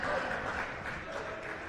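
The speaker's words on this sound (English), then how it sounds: "Rapturous applause" A football crowd at a youth under-19 match applauds as a substitute comes on, heard as a short, dense wash of clapping with a commentator's voice over it.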